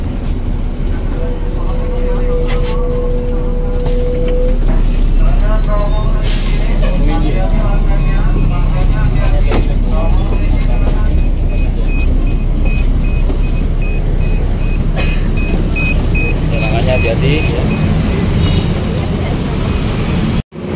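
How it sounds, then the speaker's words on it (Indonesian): TransJakarta city bus on a Hino chassis with Neo Armada bodywork, heard from the roadside as a loud, steady engine rumble amid busy traffic, with brief hissing bursts and a tonal whine, and people talking nearby. "ini Transjakarta yang kita naik tadi, Sasis Hino, karoseri Neo Armada"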